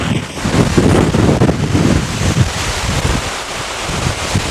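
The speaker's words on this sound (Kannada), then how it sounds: "ನೋಡ್ರಿ ಗಾಳಿ ಹೇಗೆ ಬೀಸ್ತಾ ಇದೆ ಅಂಥೇಳಿ, ನಿಂತ್ಕೊಳ್ಳೋದಕ್ಕೆ ಆಗ್ತಾಯಿಲ್ಲ ಇಲ್ಲಿ" Strong gusty wind roars and buffets the microphone at a hilltop temple by Gundal reservoir, a loud continuous rush with thumping low rumble and no talking.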